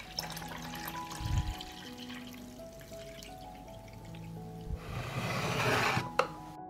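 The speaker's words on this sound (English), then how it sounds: "I pour water into the pot up to the height of the lid." Water poured into a cooking pot holding glass jars, a soft rushing pour that swells toward the end, close but fairly quiet, with a few light knocks before it and no voices.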